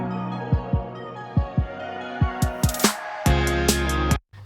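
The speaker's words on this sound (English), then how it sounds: "It's supposed to symbolise a heartbeat." A heartbeat effect thumps through a music track in low, paired pulses at a steady slow rhythm, then bright electronic synth chords and percussion join in before cutting out abruptly.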